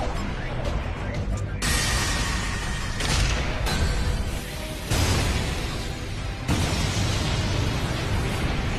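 Anime battle explosions from Seven Deadly Sins, a dense roaring blast that fills the whole stretch, with sudden loud bursts and rumbling impacts layered over music and effects.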